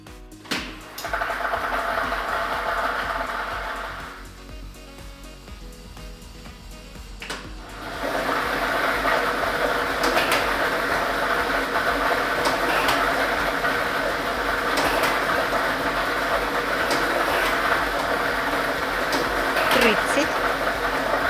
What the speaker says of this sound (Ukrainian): Тиражна комісія обрала лототрон, а комплект кульок номер 3 І ми вмикаємо лототрон.